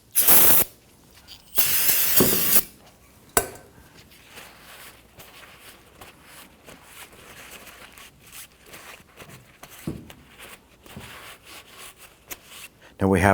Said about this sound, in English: use some spray solvent to clean off these splines